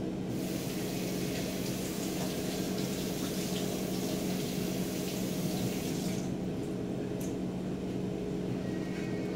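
Peeled cassava (yuca) rinsed under a running kitchen tap, a steady, unbroken rush of water that holds loud and even throughout, its character shifting slightly toward the end.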